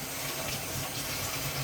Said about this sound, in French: Je vais rincer un peu ça à l'eau.